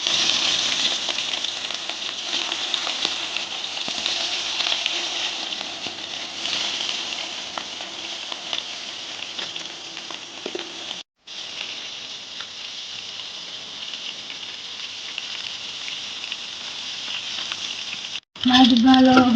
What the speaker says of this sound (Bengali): এবার মাছ ভাজার জন্য পরিমাণ মতো তেল দিয়ে দেব।